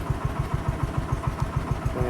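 An old tractor engine idling right after starting, a close, low, evenly pulsing chug at about six beats per second, loud and steady.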